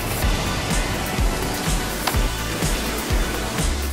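Steady rain falls outdoors across a wide open hilltop landscape, a dense even hiss with scattered low knocks and drips throughout, with no talking.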